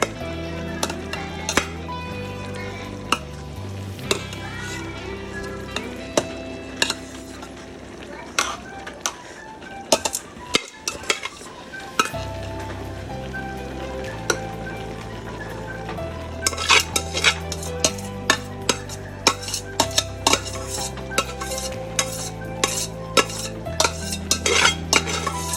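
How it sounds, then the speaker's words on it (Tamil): A spoon stirs rice in a pot for chicken dum biryani, producing scattered metallic scrapes and clinks that come in short bursts beneath loud, steady background music. "இப்போ பார்த்தீங்கன்னா ரொம்ப நீங்கள் பார்த்து கிளறணும், ஏன்னா ரைஸ் உடஞ்சிடும் இல்லாட்டி"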